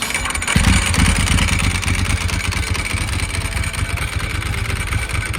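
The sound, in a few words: Ducati 996 L-twin Desmo engine roar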